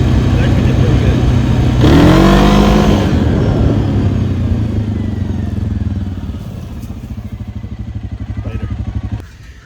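A 2023 Suzuki King Quad 750 ATV with a shim mod, rollers and washers accelerates hard, engine note rising then falling to a throbbing, pulsing run, close and loud, with a voice briefly over it.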